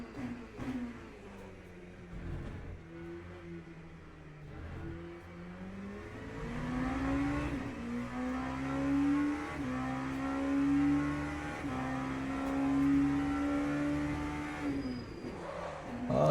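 Simulated LMP2 prototype race car engine lapping Spa-Francorchamps in Le Mans Ultimate, a steady high-pitched drone rising and falling through gear changes and revs, loud and continuous with no talk.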